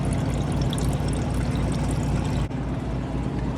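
A water pump feeds water in slowly, giving a loud, continuous pouring and gurgling wash that runs steadily, then dips briefly and continues a little quieter.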